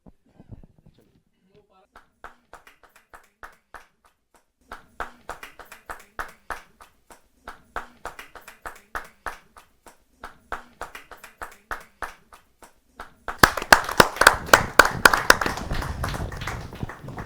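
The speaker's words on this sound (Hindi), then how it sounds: "जोरदार ताली के साथ।" Applause breaks out at a Hindi kavi sammelan poetry gathering: scattered claps at first, building into a louder burst of clapping from the crowd near the end.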